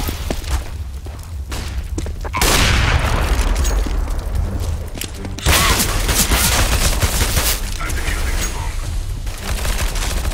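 Heavy gunfire in Counter-Strike: Global Offensive, loud sustained bursts with booming impacts, two intense stretches separated by a brief quieter gap, no talk over it.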